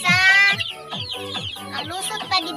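Young chickens in a cage, peeping and clucking close by in a busy, continuous chorus of overlapping calls.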